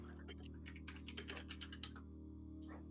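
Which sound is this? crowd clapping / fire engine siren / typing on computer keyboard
typing on computer keyboard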